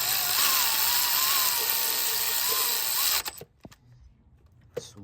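A power tool whirs steadily at close range for about three seconds while tightening glow plugs on a Ford Transit diesel engine, then cuts off, leaving quiet with a few faint clicks and taps.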